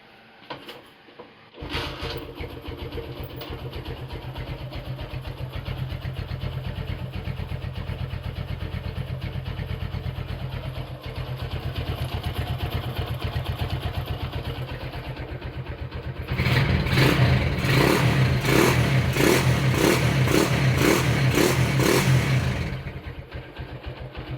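A Honda GL100 motorcycle engine starts with a sharp catch and settles into a steady idle, then is revved lightly for several seconds in a brighter, louder burst before dropping back to idle, heard up close.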